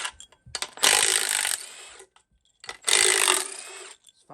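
A ratchet with an 18 mm socket loosens the big studs during a Ford 5.4 Triton engine teardown, two bursts of rapid clicking ratcheting, each about a second long, separated by a pause with small clinks.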